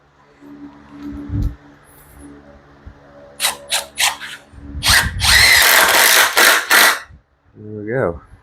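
A power drill drives 2.5 or 3 inch screws into a wooden work table in several short whirring bursts, then one longer loud run, with someone talking between the bursts.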